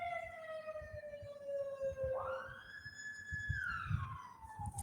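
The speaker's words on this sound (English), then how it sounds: "you all can hear ka? The ambulance ka? The ambulance sounds." An ambulance siren outside, wailing and sweeping up and down, fairly faint and distant, over low background rumble.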